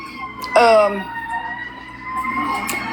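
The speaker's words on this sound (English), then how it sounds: "Y'all hear the sirens?" Emergency vehicle sirens wail loudly with rising and falling tones, one sweeping blast up close followed by steadier wailing that carries on in the background.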